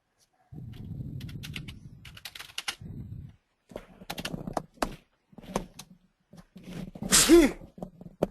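A single sharp sneeze bursts out near the end, close and loud, amid scattered computer keyboard typing in a quiet training room.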